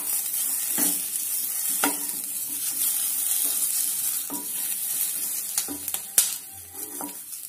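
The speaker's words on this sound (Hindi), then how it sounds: "यहाँ हम इंस्टेंट अचार बनाने जा रहे हैं, इसलिए हमने मिर्च को हल्का सा पका लिया है।" Green chillies being lightly cooked in a pan for an instant pickle sizzle with a steady hiss, punctuated by periodic sharp spoon taps and stirring scrapes, one louder clack near the end.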